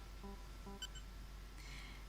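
A phone rings in the Ace Attorney courtroom video game at a law office, with two short electronic beeps followed by a brighter chime, fairly quiet and alone.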